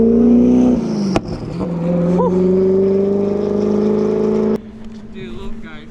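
A $3 million hypercar drives by with a loud, steady engine drone that climbs slightly in pitch, then drops off abruptly as it passes, leaving a quieter tail.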